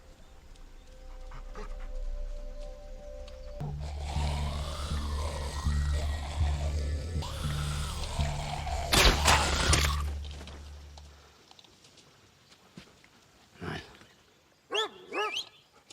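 A dog pants heavily and rhythmically up close over a rumbling low background, followed by quieter rustles and a few short high squeaky sounds near the end.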